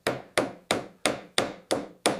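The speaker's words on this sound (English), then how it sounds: "H, hammer." A hammer taps seven times in a steady, even rhythm, each blow a sharp, close strike that decays quickly, with no voices.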